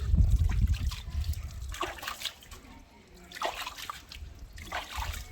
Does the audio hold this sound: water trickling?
yes